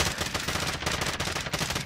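Dense, continuous automatic gunfire from a video game, rapid overlapping shots filling the whole moment at steady loudness, with no talking.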